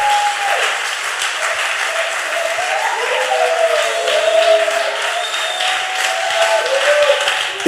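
A church congregation applauds and cheers the Lord in a sustained wash of clapping, loud and steady across the room, with a voice rising and sliding over the crowd.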